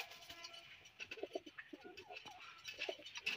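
A male pigeon on a farm coos repeatedly near a newly placed nest pot, soft throaty calls coming in short bursts over a quiet background.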